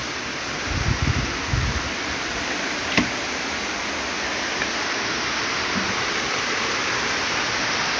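Heavy rain falls outside a home in a steady, rushing wash of noise, with a few low thumps early on and a brief sharp tap midway, and no voices.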